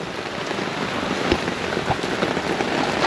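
Pouring rain hammers down on an outdoor grilling spot in a dense, unbroken hiss of drops, loud and steady with a few sharper spatters standing out.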